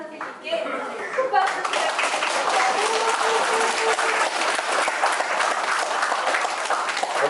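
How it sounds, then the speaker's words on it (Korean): A lecture audience gives a lecturer a warm round of applause after a public talk, dense sustained clapping swelling in after a brief moment and continuing steadily, with some voices mixed in. "유익하고 흥미로운 강의해주신 오효진 선생님께 큰 박수 부탁드립니다."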